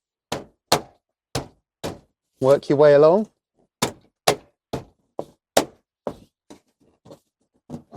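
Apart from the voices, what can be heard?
banging Tesla Model X rear trim panel into place by hand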